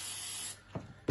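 Spray from an aerosol can hisses in one steady, close burst before steel pipe threading with a Rothenberger threader, then stops, followed by faint knocks of handling.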